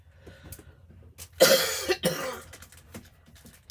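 A single sharp, loud cough bursts out in a quiet room, followed by a smaller second cough, with light background rustling.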